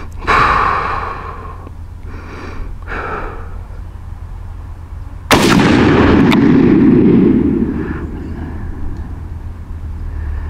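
A single loud, close rifle shot from a 45-70 Marlin Guide Gun fired at a 20-yard zeroing range, a sharp blast with a rolling low tail lasting a couple of seconds, preceded by heavy breathing.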